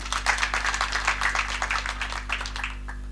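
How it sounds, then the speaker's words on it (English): An audience at a Laikipia University graduation ceremony claps steadily for the council, a dense, even patter of many hands heard over a constant low electrical hum. "I think they deserve a clap"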